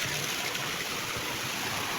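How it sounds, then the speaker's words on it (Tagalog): A strong river stream rushes by in Surigao del Norte, making a steady, dense, loud roar of flowing water with no break and no voices over it. "yan yung ilog namin guys, napakalakas"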